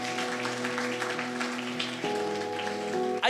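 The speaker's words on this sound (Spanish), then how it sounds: "Un aplauso al Señor." A congregation applauds at a Catholic preaching event, a soft wash of scattered clapping set against sustained organ or keyboard chords, moderately distant.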